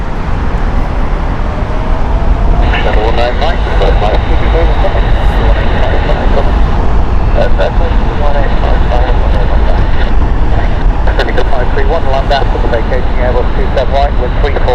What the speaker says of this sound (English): Virgin being towed there.